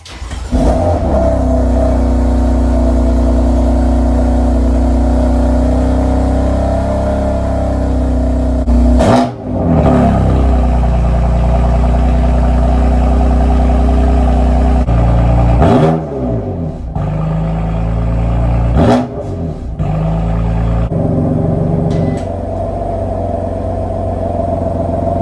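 A BMW M4 with catless downpipes on the stock exhaust idles loud and high on a cold start, a steady heavy drone broken by a few sharp revs and brief dips, alone and close to the microphone.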